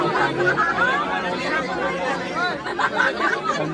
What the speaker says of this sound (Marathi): गर्दी बघा.